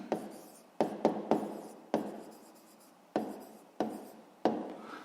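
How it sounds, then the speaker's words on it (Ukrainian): Chalk or pen strokes as a math exercise answer is written out, a series of sharp taps and short scraping strokes with pauses between, close and clear with no talking. "Записуємо тепер відповідь. Пишемо відповідь."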